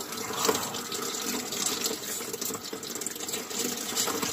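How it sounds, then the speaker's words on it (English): Water runs steadily from a thawed farm tap into a cattle drinker on a winter farm, a continuous gushing, splashing fill heard up close with no talk. "you can hear the water filling up in the drinker"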